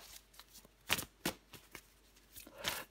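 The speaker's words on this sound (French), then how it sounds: "je prends encore une carte pour vous" Tarot cards handled and drawn from the deck, several quick papery swishes and flicks in close, uneven bursts with quiet gaps between them, no voices.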